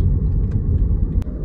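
Car engine idling low and rumbling as the vehicle pulls into a parking spot in Saudi Arabia, a steady close-up drone with a few small clicks.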